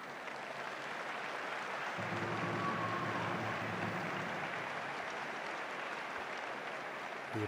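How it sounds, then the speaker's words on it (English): Football supporters applaud around a stadium during a Leicester City versus Tottenham Hotspur women's league match, a broad distant wash of clapping with faint crowd murmur and a commentator talking over it. "The applause of the Leicester fans rings around the stadium as she just trots off."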